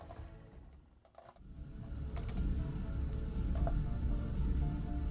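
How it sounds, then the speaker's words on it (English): Rapid clicking of a computer keyboard during an XCOM game session, a fairly close, continuous patter of keystrokes over low background hum. "caught me typing"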